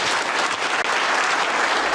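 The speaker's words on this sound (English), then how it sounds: "Give yourself a round of applause." A studio crowd gives a steady, dense round of clapping after an NFL game, close and loud throughout the two seconds, with a brief dip near the middle and no voices over it.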